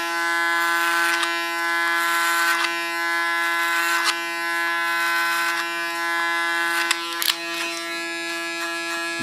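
Electric hair clippers run close during a haircut, a steady high-pitched motorized buzz with strong tonal hum, broken by brief scraping bursts as the blade passes through hair; no talking.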